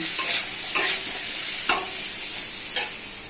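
Pumpkin and eggplant frying in oil, a constant close hiss of sizzling punctuated by four sharp stirring scrapes spaced about a second apart.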